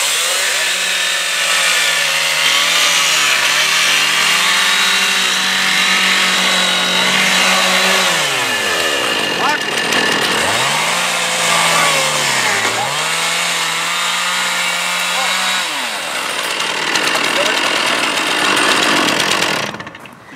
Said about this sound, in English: do a plunge cut, see how far the decking is